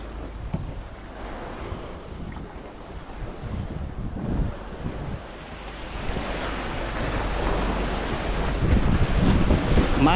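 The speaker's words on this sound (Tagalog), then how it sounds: "Maalong karagatan amigo." Rough open sea waves roll and crash around a small boat on the West Philippine Sea, a constant loud wash of surf mixed with heavy wind buffeting the microphone, growing stronger toward the end with no talk.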